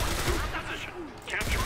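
Gunfire in the Enlisted video game, several loud bursts of shots close by at the start and end of the clip, with game sounds and a player's voice between them.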